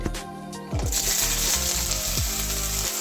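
Onion and garlic dropped into a few spoons of hot oil, a sudden loud sizzle that then crackles on steadily, with a few scraping stirs in the pan.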